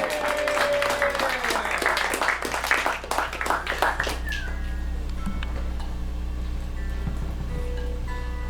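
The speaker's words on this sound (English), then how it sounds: "So give them a big round of applause." Crowd clapping and cheering at a live concert in Studio 34, Philadelphia, before a band from Oakland plays; dense applause with whoops fills the first four seconds, then fades to a quiet room with scattered voices.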